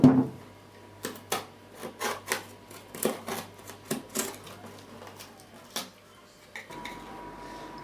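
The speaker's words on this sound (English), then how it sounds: "trim the laminate with a sharp knife and or some snips while it's still green" Green fibreglass laminate is trimmed with a sharp knife or snips during an interior trim repair, making a series of about a dozen short, crisp scraping cuts in an irregular rhythm, close and fairly clear, followed by a faint rustle.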